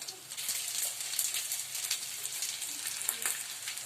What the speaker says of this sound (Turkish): Çok hafif böyle yumurtası pişinceye kadar üstünde Kızartıyoruz.